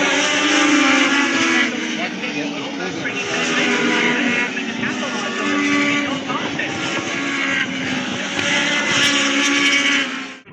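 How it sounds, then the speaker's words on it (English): Loud, sustained roar of many Legends race car engines revving together at a race start at Knockhill, droning with shifting pitch, with a commentator talking over it. "Ready to go, the revs up, the lights are out, green, here we go then."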